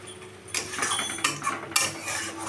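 A metal utensil scrapes and clinks against a pan while masala with turmeric is stirred and fried in oil for an egg chicken tarka, giving irregular close scraping strokes without talk.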